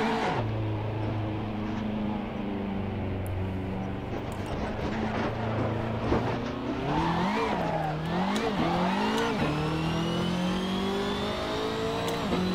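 BMW M6 GT3 race car in the Assetto Corsa racing game, engine droning and rising through gear changes with tire squeal, a steady loud in-game run.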